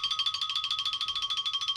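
A phone notification plays on its own, a bright ringing tone with a fast, steady pulsing warble, moderately loud and close, with no talk over it.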